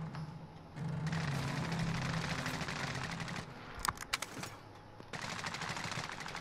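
Bruen and AX50 gunfire in a battle royale video game shooter: bursts of rapid automatic fire spread across the clip, with a few sharp louder single cracks near the middle, under steady game ambience.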